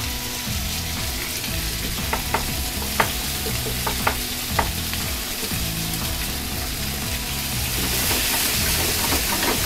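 Retort sweet and sour pork being stir-fried over high heat, a dense continuous sizzle with repeated spatula scrapes and a few sharp clicks against the pan, nobody speaking.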